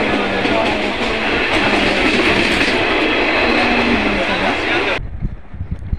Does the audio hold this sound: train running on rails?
yes